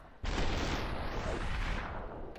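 Loud, sustained burst of gunfire from the video game Superhot, starting abruptly and holding a dense, booming wash of shots for about two seconds before easing slightly.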